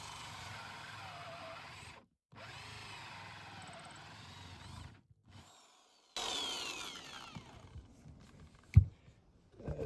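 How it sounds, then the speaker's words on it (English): A power drill whirs in several bursts separated by brief pauses, the motor pitch rising and falling as it bites through a Trigano Pop-Top caravan floor and subfloor, ending in a louder push. "I'm going to just drill the hole now."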